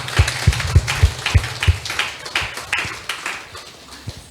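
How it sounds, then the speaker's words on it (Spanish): A church congregation claps together during a Holy Communion service, producing a steady rhythmic patter of hand claps that blurs into a brief round of applause. "Un fuerte aplauso al Señor."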